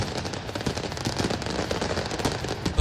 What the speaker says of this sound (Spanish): yo sé que la explosión de petardos se complica bastante